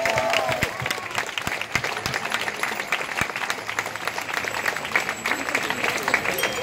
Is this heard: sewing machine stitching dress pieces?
no